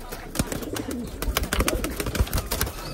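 Pigeons coo close by in soft, rolling bursts over a few seconds, with flutters and light rustling mixed in and no talking.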